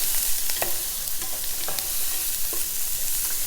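Shredded vegetables and finely chopped red pepper are stirred around in hot oil, giving a steady sizzle broken by several sharp scrapes and clicks of the spoon against the pan.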